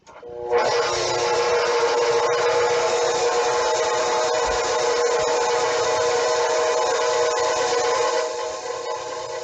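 An electric mixer blending lemony Moravian cake batter, a loud, steady motorized whir that starts abruptly, runs continuously for several seconds and eases slightly near the end, with no talking.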